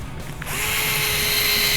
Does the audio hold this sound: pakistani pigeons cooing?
no